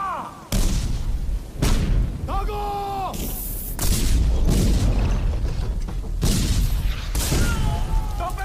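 Cannon artillery fire at the siege of Udgir fort in a historical film: a series of heavy booms and blasts strike several times in quick succession, loud and close, with shouting voices and creaking mechanisms between them.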